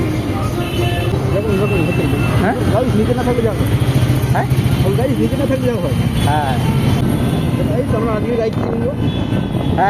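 Motorcycle riding through busy city road traffic with a passenger seated at the back, a steady engine and traffic rumble running throughout beneath loud, near conversation between riders.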